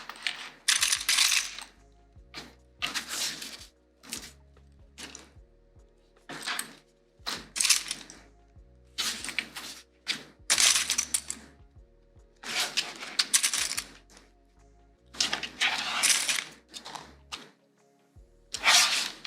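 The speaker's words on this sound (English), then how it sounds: "I'm going to use clips to hold it in place as I work my way around." Plastic sewing clips snap on one after another around the edges of a vinyl bag, crisp clicks and rustling handling in short clusters with pauses between, close up and no talking.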